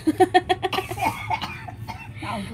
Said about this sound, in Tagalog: May ubo ka pa rin.